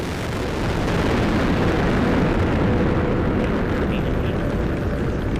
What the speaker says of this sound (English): liftoff of the United Launch Alliance Delta IV rocket carrying the NROL-45 mission for the National Reconnaissance Office